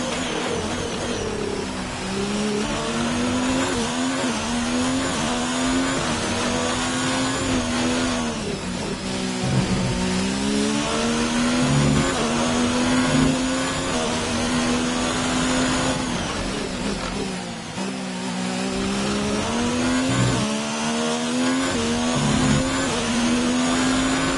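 A Formula 1 race car engine in the video game F1 19, its internal combustion engine badly worn, screams loud and continuous with repeated rising and falling revs and gear shifts, close and alone throughout.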